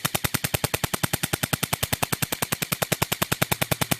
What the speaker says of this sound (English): We just want you guys to realize that we are shooting all over the shield.